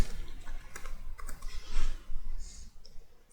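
Quick, uneven clicks of keys on a computer keyboard tap out a short burst of typing near the microphone, with a brief pause partway through.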